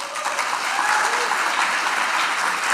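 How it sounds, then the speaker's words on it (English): Thick, sustained applause from a crowd at a JuliaCon main-stage session, many hands clapping in a continuous wash that swells slightly in the middle and stays loud throughout. "Another huge round of applause for our local committee"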